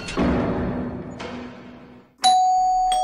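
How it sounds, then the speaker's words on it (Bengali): A doorbell pressed at a house's front door in an audio drama gives a loud, close electronic ding-dong chime that rings out and sustains near the end, after a stretch of softer rumbling noise. "Calling bell টিপল।"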